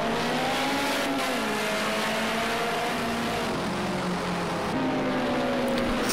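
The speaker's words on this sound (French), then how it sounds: "Sacré bruit à l'accélération cette année." Mitsubishi Lancer Evolution VI SVA engine in the racing game Project Cars 2 at Oschersleben circuit, a sustained loud droning engine note rising and shifting under acceleration, steady and close with no talking.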